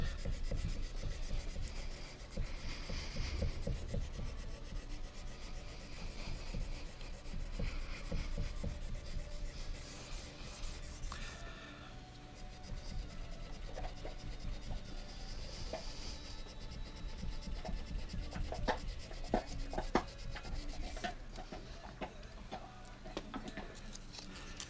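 Steady hand finishing on a knife blade's plunge cuts, a continuous close rubbing and filing rasp that carries on without pause, growing briefly louder near the middle.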